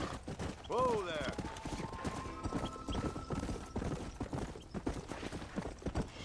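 Horse hooves clip-clop in Red Dead Redemption 2 under a voice urging the horse on, with a brief whinny near the start and faint gunfire-like pops in the busy game mix.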